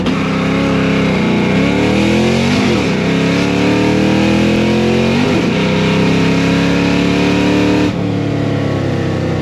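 A nitrous-fed car makes a hard test-run pull, its loud engine roaring continuously close by as the pitch climbs and drops through several gear changes, with no one talking.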